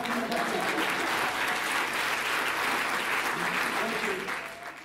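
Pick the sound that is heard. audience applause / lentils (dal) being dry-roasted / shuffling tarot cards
audience applause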